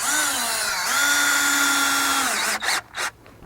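A power drill drives a screw through a bracket into a board for a backyard ice rink on a hard surface: one steady close whirr that ends in a couple of short bursts as the screw snugs in.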